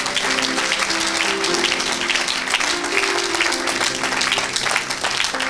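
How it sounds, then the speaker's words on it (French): Congregation at a French-language evangelical church service clapping steadily for Jesus Christ, a dense continuous wash of applause with sustained organ or keyboard chords underneath. "Est-ce qu'on peut acclamer pour Jésus-Christ?"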